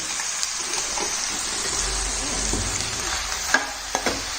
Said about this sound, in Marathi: ही हळद टाकून परतून घेते